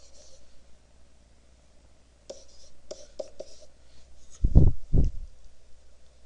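Chalk or marker scratching on a classroom board during a geometry lesson on triangles, a few short quick strokes followed by two heavier taps, otherwise quiet room.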